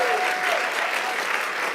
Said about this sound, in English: That in itself deserves a round of applause.